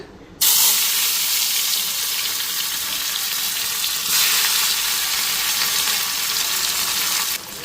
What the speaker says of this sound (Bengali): এটা ভাইজানি কড়াইতে তেল দিয়ে দিলাম